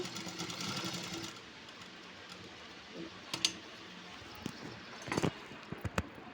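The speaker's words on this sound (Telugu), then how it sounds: "క్లాత్ని అడ్జస్ట్ చేసుకుంటూ ఇలా స్టిచ్చింగ్ వేసుకుంటూ వెళ్ళాలండి." A sewing machine runs steadily as it stitches a cut-work design on blouse cloth, a close, even mechanical whir that stops, followed by a few scattered clicks and knocks as the cloth is adjusted.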